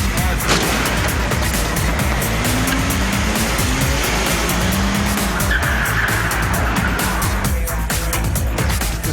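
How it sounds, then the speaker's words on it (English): A stunt car spins a full 720 degrees with its tires skidding and squealing, a loud, continuous rush of engine and tire noise that holds steady with whining squeal tones layered on top. "He was spinning a car completely around 720 degrees"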